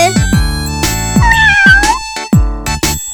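Cartoon kitten meowing in a series of short, bright, close meows with rising and falling pitch, one longer wavering call in the middle, against a quiet background.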